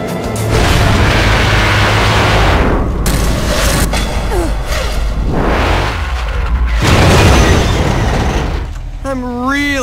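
Missiles burst in loud, booming explosions in the Bayonetta video game, with three big blasts spaced a few seconds apart, each rumbling and decaying, and a voice speaking between them.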